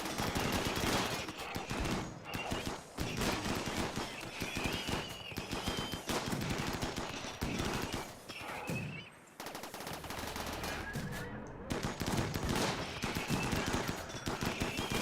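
Turret gunfire in a shallow-water naval battle game: dense, sustained automatic fire rattling almost without pause, loud and close, broken by one brief lull midway.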